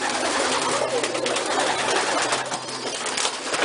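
Homing pigeons coo in a loft, soft murmuring calls that keep overlapping close by in a dense, unbroken chorus.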